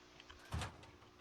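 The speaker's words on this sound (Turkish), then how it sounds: "Kapıyı kapatayım mı?" A single short door thud closes inside the horror game The Monster, fairly quiet against a low steady background hum.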